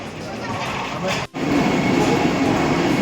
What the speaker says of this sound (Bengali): দেখো ঢুকছে বন্দে ভারত এক্সপ্রেস